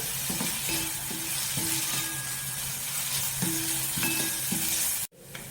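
Onions sautéing in oil in a pan for a moong dal gravy, a steady close sizzle with a few spatula clinks and stirring strokes, cutting off abruptly near the end.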